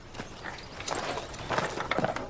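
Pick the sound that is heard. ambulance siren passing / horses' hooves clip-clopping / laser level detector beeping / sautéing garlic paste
horses' hooves clip-clopping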